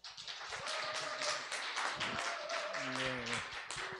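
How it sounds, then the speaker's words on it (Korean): A church congregation claps to welcome a guest speaker at a men's mission devotional service, a soft, scattered patter of hands under voices. "우리 박수로 환영합시다."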